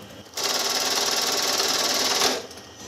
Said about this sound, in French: l'aiguille va venir piquer dans le milieu de la couture